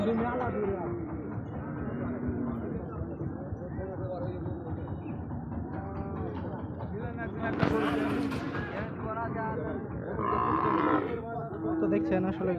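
Cattle at a village livestock market near the India–Bangladesh border give occasional low moos amid a steady crowd of voices and market bustle, with a louder bellow partway through.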